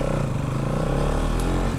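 A Bajaj Dominar 200 motorcycle, a 24-horsepower bike, runs its engine steadily up close with a low, continuous drone that carries throughout without talk.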